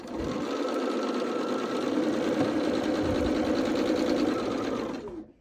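A sewing machine runs steadily for about five seconds, stitching solid fabric pieces into quilt patches, a dense, continuous whir close by that stops abruptly at the end.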